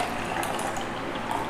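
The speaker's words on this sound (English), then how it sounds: "I am taking water and I am pouring water" Water pours steadily into a tumbler, a continuous close splashing gurgle that lasts throughout without a break and with no talking.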